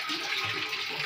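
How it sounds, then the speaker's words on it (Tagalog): Tap water pours steadily into a storage container at home, a close, continuous splashing rush with a slightly shifting tone as the vessel fills. "Puno muna tayo ng tubig."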